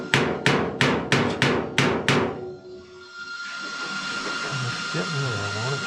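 Seven sharp metallic hammer blows on sheet metal ring out in a quick even rhythm during roof repair on a 1948 Ford truck, then give way to a hissing noise, likely the welder, with a voice speaking underneath.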